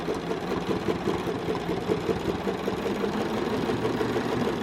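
A sewing machine quilting with rulers runs steadily at moderate speed, a continuous close mechanical whir with a fine rapid stitching rhythm throughout, no voice heard.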